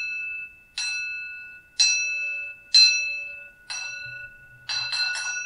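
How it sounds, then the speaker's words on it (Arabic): Distinctive bell of an old Aleppo tram, rung by the driver's foot at each arrival and departure: five bright, clear metallic strikes, each ringing out and fading, the last a quick triple, heard alone and close. "وكان ينطلق جرس الترام المتميز بصوته"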